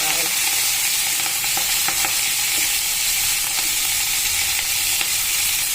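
About ten dry red chillies frying in a pan of hot oil, giving a steady broadband sizzle with faint stirring clicks throughout, close and continuous with no talking.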